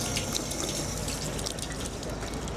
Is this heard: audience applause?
no